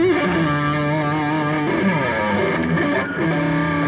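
Electric guitar with P90 pickups played through distortion and a Dunlop Phase 99 pedal, loud sustained distorted chords with sweeping, swirling phase motion throughout, no talking.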